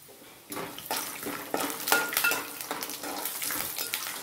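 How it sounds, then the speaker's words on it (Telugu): Peanuts being fried in a pan, soft sizzling mixed with rattling and scraping as they are stirred, quiet and close with uneven bursts of clatter. "ముందుగా పల్లీలు వేయించి తీసుకోవాలి."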